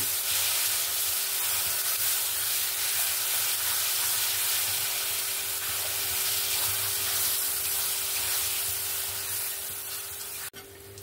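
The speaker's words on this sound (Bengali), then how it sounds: "1 চামচ জিরে গুঁড়ো, আর 1 চামচের মতো ধনে গুঁড়ো দিয়ে আমি এটাকে ভালো করে আরেকবার কষিয়ে নেব।" Cumin and coriander powder masala with turmeric frying in a pan for tomato rice, giving a steady, close sizzle and hiss that holds evenly throughout, with a brief knock near the end.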